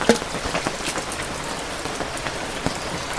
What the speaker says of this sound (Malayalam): മഴ പെയ്യാൻ തുടങ്ങിയാലാണ് കേട്ടോ ആകെ കഷ്ടം